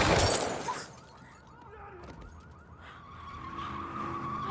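A car window shattered by a stray bullet outside an office: a loud burst of breaking glass at the start, followed by scattered tinkling fragments and a rising tonal whine as the scene settles.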